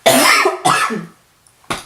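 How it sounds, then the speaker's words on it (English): A woman coughs in three bursts, two harsh, throaty coughs close together followed by a short pause and a brief final cough, loud and close with no talking. "I'm coughing"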